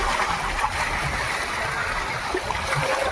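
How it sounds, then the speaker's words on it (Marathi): Windy sea waves break near swimmers in a steady, loud wash of surf and splashing that runs continuously with no clear pauses. "लाटांच्या आवाजामध्ये पोहून बाहेर आलो"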